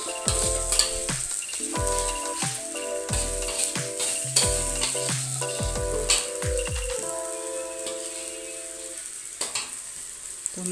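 Chili paste sautéing in a pan, a loud continuous sizzle broken by frequent metallic clinks and scrapes of the spatula against the pan, with ringing tones from the utensil, no talking.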